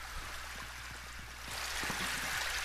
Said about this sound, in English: I went up to it and pressed square to see what it would do, and it started flushing